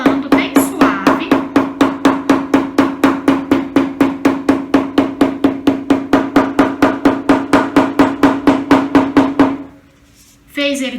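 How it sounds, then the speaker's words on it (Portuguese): A small patchwork hammer taps pressed fabric seams in a fast, even rhythm of roughly forty light knocks, close and steady, before stopping abruptly. "vai vir com o martelinho, ó, e vai vir martelando bem suave"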